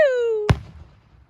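A firework at a Lapeer fireworks show shoots up with a falling whistle, then bursts in one sharp, loud bang, and a quiet outdoor tail follows.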